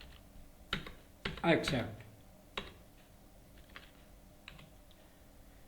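Typing on a computer keyboard while entering cheque details, a few scattered clicks and one short burst of rapid keystrokes, close and fairly quiet, with a brief spoken word in between.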